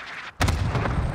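A cluster strike in Call of Duty: Modern Warfare hits after a brief lull, with a sudden loud boom that rolls into a sustained, rumbling barrage of overlapping explosions.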